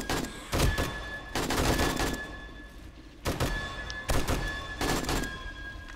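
Bursts of rapid video game gunfire in an underground horde base defence, firing in several loud clusters with short pauses between them.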